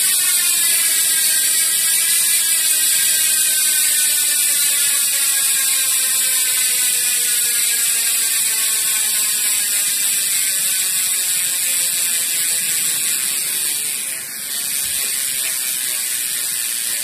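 A Meroca bicycle hub's ratchet after a year of use clicks in a fast, steady buzz as the wheel freewheels, the pawls gradually slowing over a long stretch with no voices.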